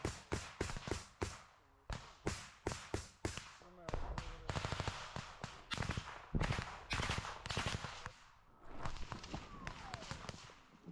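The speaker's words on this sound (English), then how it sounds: "The sound of gunshots." Rapid bursts of gunfire crackle in quick volleys, some single shots and some fast strings, loud and close, with brief pauses between clusters.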